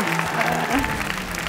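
Loud, sustained clapping from a gala concert crowd filling the hall, with a voice speaking over the applause.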